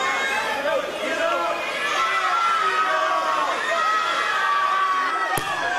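Wrestling crowd at a Superstars of The Ring show cheering and shouting loudly and continuously, a dense roar of many voices with whistles and cries throughout, plus a sharp bang near the end.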